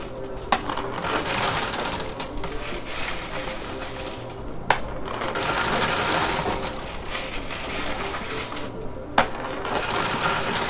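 Chips cascade from a high-limit arcade coin pusher into its payout chute in a dense, continuous metallic clatter and rattle, broken by three sharp louder clinks spaced a few seconds apart, with mechanical whirring underneath and no voices.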